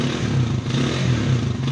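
Honda TMX155 motorcycle engine held at a raised rev, a close, loud, continuous rough drone with no talk over it.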